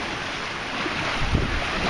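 A sailboat running under a whisker pole moves through wind and waves, a steady, full rush of water and wind noise with a slightly heavier surge near the end, no voices.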